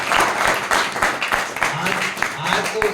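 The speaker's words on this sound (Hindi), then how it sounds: "उसके लिए एक बार और ताली हो जाए।" Live audience at a Sanskrit Amarakosha recitation event clapping in a sustained, dense burst of applause, loud and continuous throughout, with some voices mixed in underneath.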